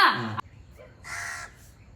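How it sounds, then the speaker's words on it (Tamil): Crows cawing outdoors: a loud harsh caw at the start, then a quieter second caw a moment later, with faint background noise between. "இது நம்ம காக்கை கூட்டம்."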